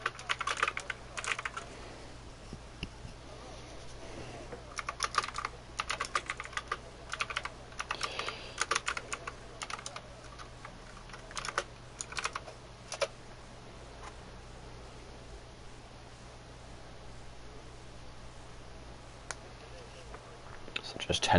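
A noisy computer keyboard clatters in intermittent close bursts of typing that thin out to scattered single keystrokes toward the end, over a faint steady hum.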